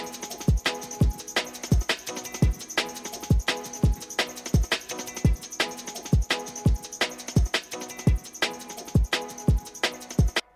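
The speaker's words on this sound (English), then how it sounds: "I made my own drum and bass drums to put with it that sound like this" A self-made drum and bass beat with punchy kicks and crisp snares in a fast, steady, syncopated rhythm, repeating evenly over a bright hi-hat wash at a moderate level.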